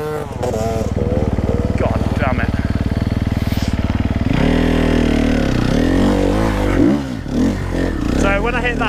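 A four-stroke enduro motorcycle engine thumps in a steady close-up idle, then revs and labours unevenly before nearly stalling, with a rider talking over the engine throughout.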